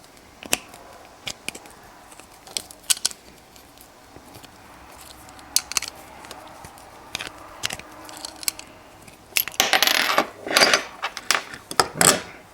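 Tubing-style cutter turned repeatedly around a brass rifle cartridge case stuck in a reloading die, giving sparse scraping clicks that grow into louder, denser grinding bursts near the end, close and without talk.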